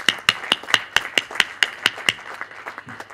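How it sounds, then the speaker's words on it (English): A few people clapping in a steady, evenly spaced rhythm at a finance seminar, sharp close claps that fade out toward the end, with no talk over them. "So I think they deserve a big round of applause."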